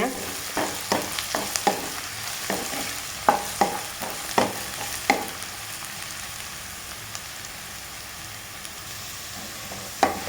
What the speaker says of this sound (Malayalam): പരിപ്പും ഉള്ളി എല്ലാം കൂടെ എണ്ണയിൽ കിടന്ന് ഒന്ന് വെന്ത് വന്നിട്ടുണ്ട്